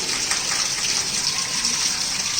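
Water pours steadily over a triangular notch weir in a flow measurement setup, a continuous loud rushing gush with no pauses or talk.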